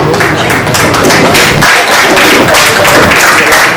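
Audience applause at the PDCYES anniversary event, loud, dense clapping from a crowd, sustained evenly for the whole few seconds with no talk over it.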